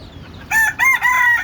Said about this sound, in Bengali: এই যে দেখেন আজকের মুরগি